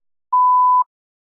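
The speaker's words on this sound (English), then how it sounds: "Please begin speaking after the beep." A single clean electronic test-prompt beep, a steady pure tone lasting about half a second, loud and alone in silence.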